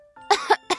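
A narrator's voice imitates a flower's cough in a Portuguese audiobook of The Little Prince: two or three quick, close, voiced coughs.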